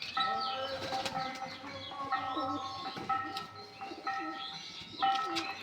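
Giribaz Fulshira high-flying pigeons gathered together, with soft coos and chirps overlapping and wings flapping now and then, fairly close and steady throughout.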